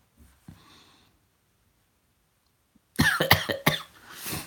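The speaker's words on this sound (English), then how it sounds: "Why am I coughing?" Near silence with a faint breath, then a burst of several harsh, close coughs in quick succession, loud and dry.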